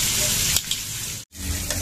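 Pork ribs searing in hot oil make a loud, steady sizzle that fills the whole stretch, close up, with a soft bump and a brief cut partway through.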